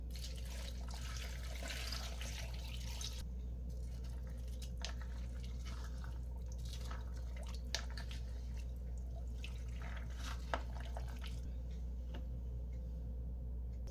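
Water trickles and splashes into a cooking pot holding beans, carrots, onion and jalapeno in a home kitchen, a soft, steady pour lasting several seconds under a constant low hum, fairly faint.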